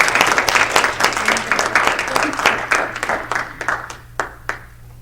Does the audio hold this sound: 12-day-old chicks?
no